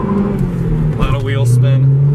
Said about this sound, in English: Put in first gear, rev it up to about 4.